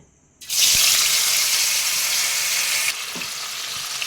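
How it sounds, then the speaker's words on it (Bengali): Paneer pieces dropped into hot salted oil burst into loud, steady sizzling that starts abruptly and continues close up, easing slightly after a few seconds. "এবার আমি এখানে পনিরগুলো দিয়ে দিচ্ছি তেলেতে"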